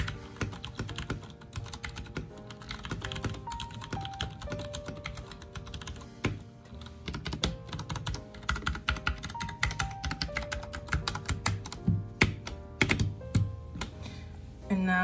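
Close, continuous typing on a Ducky One 2 Mini mechanical keyboard fitted with Purple Tang Dynasty keycaps. Rapid clacky keystrokes come in uneven bursts with brief pauses, sharp and crisp throughout.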